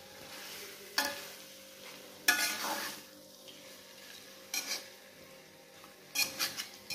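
Fried mackerel tuna is stirred into green chili sambal in a pan, a low simmering sizzle broken by several brief spatula scrapes and clatters, close and quiet overall.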